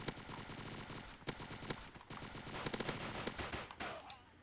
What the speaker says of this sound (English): I have no idea where anyone's shooting from.